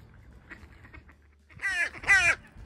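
Ducks among crows, seagulls and swans: two loud, close, nasal honking quacks sound near the end after a stretch of faint, low background murmur.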